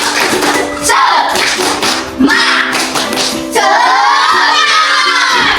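Children at school doing a tepuk semangat rhythmic clapping routine, quick patterned claps and taps with shouted chants, loud and close, an adult's voice briefly among them.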